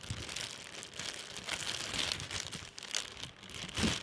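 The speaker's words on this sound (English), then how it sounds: "Came in this red plastic bag." A red plastic bag rustles and crinkles while being handled, with a steady crackle of broadband noise, a few sharper crunches, and faint aircraft noise behind it.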